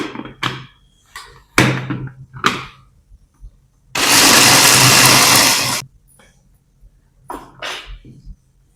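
A blender grinds spice masala in one loud, continuous burst of about two seconds, with brief voices and kitchen clatter before and after it.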